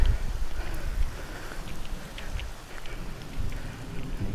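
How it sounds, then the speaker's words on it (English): Heavy rain pouring down steadily, with a constant dense patter and low rumbling underneath. "when the rain's coming down sideways and you want to get out"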